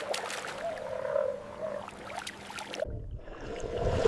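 Frogs bred at a frog leather farm croak in a rough, throaty series of close calls, followed by splashing water noise.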